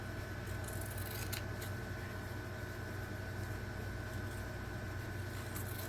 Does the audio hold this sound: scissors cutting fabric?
yes